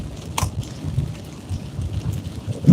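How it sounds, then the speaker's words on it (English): Heavy rain drums steadily during a drive, with low rumbling thunder and a sharp crack near the start, loud and continuous with no voices. "Looks like the rain's letting up a little bit. Not torrential downpour like it was."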